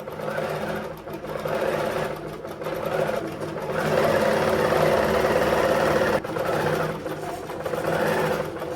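A QCT6 Pro quilting machine stitching across a quilt, with a steady, close, fast mechanical hum and needle chatter that runs without a break, pitch shifting slightly as it travels.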